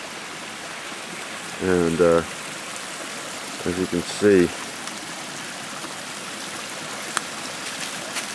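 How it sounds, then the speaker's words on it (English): A mountain brook rushes over a couple of small waterfalls in a steady, close splashing flow, with someone briefly talking over it. "This is actually the brook that comes down off the mountain, part of it, one of the many. It's a couple of waterfalls"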